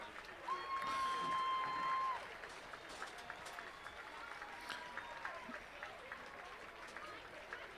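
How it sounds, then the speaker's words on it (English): A crowd in the stadium bleachers at a high school football game applauds first responders, a faint, distant spread of clapping with a brief tone at the start and some cheering. "Ladies and gentlemen, let's have a round of applause for our first responders."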